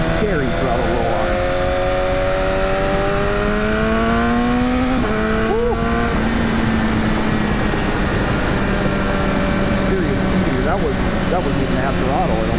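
Riding aboard a 2015 BMW S1000R motorcycle as the throttle rolls on, the engine note rises steadily in pitch and then holds, loud and close over heavy wind rush, without speech.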